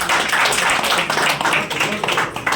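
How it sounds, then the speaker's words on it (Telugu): A group of people claps continuously in a dense, busy patter that fills the space, with voices mixed into the applause. "కొట్టండి సార్. Clap sir."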